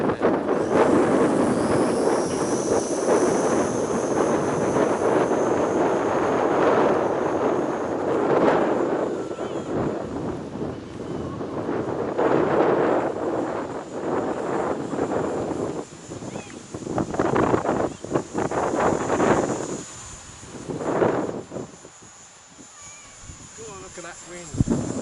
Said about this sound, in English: It's very windy today, 15 miles an hour or so.